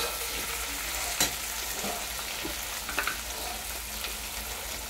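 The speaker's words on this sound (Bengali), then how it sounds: "এবার টমেটোগুলো আমি দিয়ে দেবো, এইগুলো দিয়ে ভেজে নেবো ভালো করে।" Potatoes, onions and tomatoes fry in a pan with a steady broadband sizzle, broken by a few sharp clicks and scrapes of stirring, close and moderately loud with no talking.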